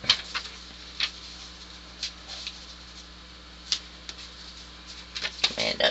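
Paper edges trimmed for a collage, heard as scattered crisp snips and clicks spaced a second or so apart over a faint steady background hum, close by and without speech.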